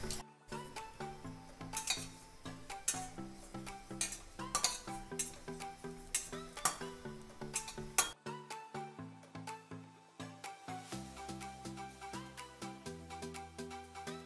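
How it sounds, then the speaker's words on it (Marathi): A metal spoon stirs two large spoonfuls of sesame seeds dry-roasting to golden in a kadhai, giving repeated clinks and scrapes in an irregular rhythm, fairly quiet, over soft background music. "त्यासाठी कढईत 2 मोठे चमचे तीळ सोनेरी रंगावर भाजून घेऊया"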